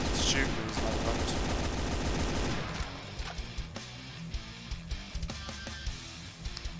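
Gunfire in Brutal Doom, a loud dense barrage at first that gives way to scattered sharper shots and impacts over a rumbling game soundscape.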